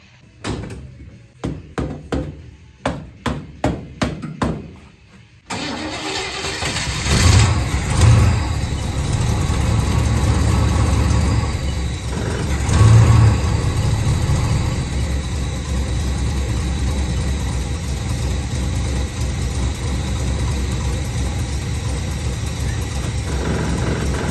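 Several sharp clicks and cranks, then a Holden HQ ute's V8 engine roars to life and settles into a loud, steady, rumbling idle that continues to the end.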